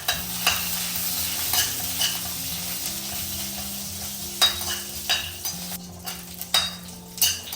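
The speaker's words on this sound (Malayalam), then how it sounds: "നല്ലൊന്ന് ഇളക്കി കൊടുക്കാം." Fennel and cumin seeds frying in a pan and being stirred, a steady sizzle under repeated scraping strokes of a spoon against the metal, with a sustained low hum running underneath.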